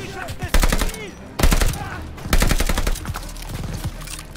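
Bursts of automatic machine-gun fire from an enemy nest in the World War II shooter Call of Duty: Vanguard, loud and close, coming in three clustered volleys of rapid rattling shots with brief lulls between them.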